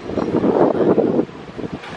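Wind gusts through the plants of a vertical garden in Guiguinto, a steady rushing and buffeting that swells for about a second before easing into softer, uneven puffs, close to the microphone.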